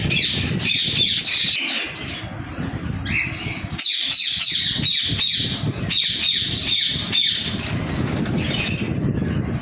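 A bird farm keeping ringneck parakeets and other birds fills the air with dense, loud squawks and shrill chirps, overlapping nonstop, with bursts of wing flapping close by.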